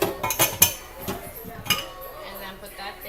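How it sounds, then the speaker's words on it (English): Dishes and cutlery clink and clatter as they are put into a kitchen sink, several sharp knocks early on and then a softer one, close by, with some quiet kitchen background. "Put all the dishes in this side."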